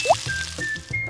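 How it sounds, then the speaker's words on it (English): Sauce poured into a small pan for a miniature squid dish, a brief soft liquid splash and slosh with a faint gurgle, heard up close and alone. "Pour the sauce in."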